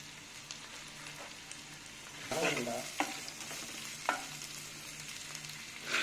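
Large onions sautéed in hot oil in a pan, giving a continuous low sizzle with a few louder scraping stirs partway through, close by and without speech.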